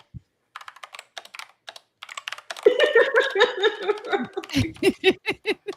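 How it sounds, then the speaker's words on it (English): Quick clicking keystrokes on a computer keyboard, close and irregular, soon joined by giggling and laughter over the typing. "I hear typing. Click, clack, click, clack."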